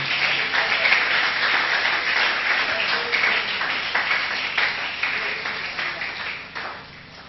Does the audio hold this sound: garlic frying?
no